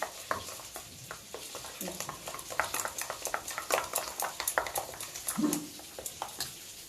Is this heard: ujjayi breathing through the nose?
no